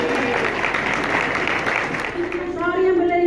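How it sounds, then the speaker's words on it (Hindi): Church congregation applauding together at an annual prayer gathering, a dense steady wash of clapping that continues under a sung or spoken voice emerging near the end. "तो ताली बजा दो।"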